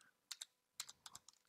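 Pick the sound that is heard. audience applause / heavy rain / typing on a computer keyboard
typing on a computer keyboard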